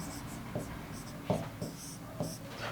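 Chalk or marker writing on a classroom board, several short tapping strokes in quick bursts, close and fairly faint, with faint speech in the background.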